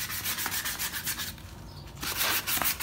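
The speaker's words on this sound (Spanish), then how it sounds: "Vamos a empezar con la lijada aquí." Sandpaper rubbing on a bicycle frame during a custom refinish, steady back-and-forth scratchy strokes close up, with a short pause midway before the sanding resumes.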